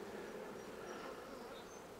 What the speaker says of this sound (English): it's just way too many bees in here